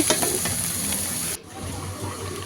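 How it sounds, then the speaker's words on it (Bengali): Shutki bharta, a mash of dried fish, frying in hot oil in a pan: a steady hiss of sizzling with stirring scrapes, dipping briefly partway through before the frying noise resumes. "শুটকির ভর্তাটা আমি তেলে লাল করে ভেজে নেব"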